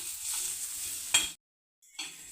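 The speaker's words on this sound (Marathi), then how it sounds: "हे पण आता थोडंसं आपण भाजून घेऊ, कारण हे कच्चंच आहे सर्व, खसखस तीळ वगैरे." Raw sesame and poppy seeds dry-roast in a pan for Amravati-style sambhar vadi, a soft, close crackle and stir that drops to a brief silence partway through, then resumes.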